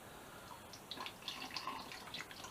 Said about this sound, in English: Get some water in the rad there.